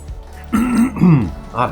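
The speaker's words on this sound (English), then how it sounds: "I'm clearing my throat so much" A man clears his throat several times in quick succession, short rough voiced rasps close to the microphone, with a brief vocal grunt at the end.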